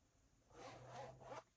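A zipper pulled along a leather clutch bag with gold grommet accents, a quiet close zip in two or three quick strokes, alone with no talking.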